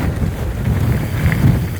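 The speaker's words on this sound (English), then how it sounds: "So it is windy right here." Strong outdoor wind buffets a microphone fitted with a windscreen, producing a loud, continuous low rumble with gusty swells across a brief stretch, no speech heard.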